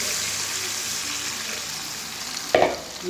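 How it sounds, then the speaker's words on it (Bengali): Water is poured into a pot of simmering fish curry, a steady hissing bubble from the pot followed by a short sharp splash and gush near the end, close and fairly loud. "জল দিয়ে দিলাম।"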